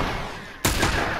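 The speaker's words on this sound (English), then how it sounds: "Combat will draw gunfire of your foes." In the video game The Last of Us, after a quiet moment of low background hum, a sharp, loud gunshot blast cuts in and its rough noise trails on to the end.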